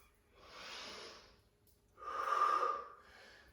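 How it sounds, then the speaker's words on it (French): Two audible breaths during a gym arms, abs and glutes workout, a soft inhale followed by a stronger, louder exhale, close to the microphone with quiet pauses between. "J'inspire, j'expire."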